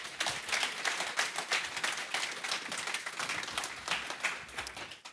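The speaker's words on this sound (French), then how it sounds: "On peut les applaudir." Audience at a French digital-industry morning conference applauding, a dense, steady patter of many hands clapping at close range, holding an even level for the full stretch without voices over it.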